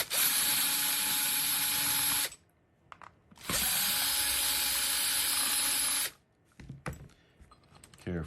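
A power driver whirs loudly in two long runs of about two seconds each while removing the mounting bolts of a Schlage electronic deadbolt. A few small clicks and handling noises follow.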